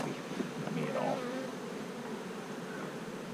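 Dense, continuous buzzing of many honeybees around an open hive, close and steady with slight swells, over faint wind.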